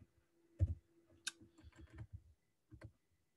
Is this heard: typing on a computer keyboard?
yes